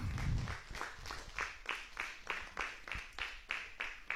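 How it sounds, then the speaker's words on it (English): An audience claps for a professor after a talk, a fairly quiet round of applause whose individual claps form a loose, regular pulse throughout. "Let's give Professor Yusuf a round of applause."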